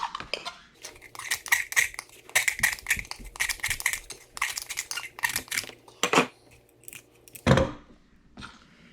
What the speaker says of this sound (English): with a utility knife, I'm just going to scrape along the inside to get rid of that burr that we created